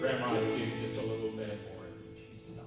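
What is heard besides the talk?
No everyday noises stand out.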